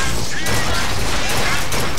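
Carbine gunfire in BioShock Infinite, a dense, loud burst of shots and impacts running continuously with no pauses.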